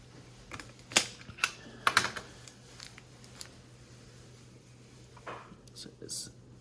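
Keys clack on a Keychron Q3 mechanical keyboard with brown tactile switches, a few sharp close taps clustered early and then scattered lighter presses, heard with no talking over them.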